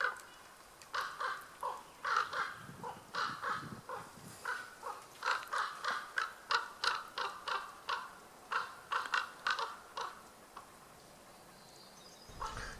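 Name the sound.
ravens calling while confronting an eagle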